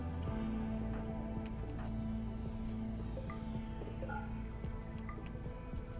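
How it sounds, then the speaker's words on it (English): Rain falling in the game Rimworld: a soft, steady patter of drops that holds throughout, quiet and even under a low background hum. "And here comes the rain to put down the fires."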